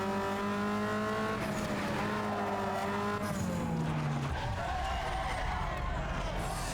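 An Opel Corsa race car engine revs and shifts in a Need for Speed Underground 2 street race, its rising and falling whine steady and up front throughout.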